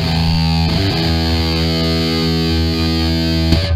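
A heavily distorted electric guitar chord sustains loud and thick through a guitar cabinet simulated in a basement room, briefly re-struck partway through, with a roomy, boxy tone.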